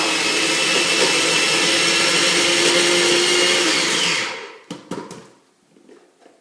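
A blender chopping jalapeños roars loudly and steadily for about four seconds, then shuts off, leaving a few clicks and rattles as it winds down.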